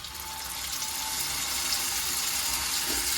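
Water pours steadily into a hot pan of fish curry with onion and ground masala paste, a continuous broadband hiss and splash that stays fairly even and close for about three seconds, with no talking.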